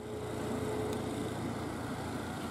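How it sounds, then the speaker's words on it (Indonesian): A bus engine hauling uphill on a steep winding road, a low steady drone heard from inside the vehicle, fairly faint and continuous with no talking. "Menanjak meraung mesinnya."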